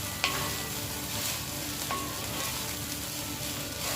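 Egg fried rice is stirred in a hot pan for breakfast with a loud, continuous sizzle, broken by a few sharp scrapes and taps from the spatula.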